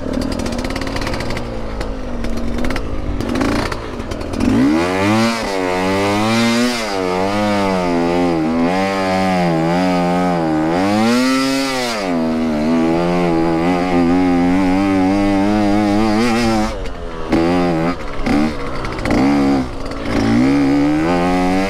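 Husqvarna TSE250R two-stroke dirt bike ridden off road, its engine droning loud and continuous, rising and falling with throttle through revving sweeps and gear changes, with no talking over it.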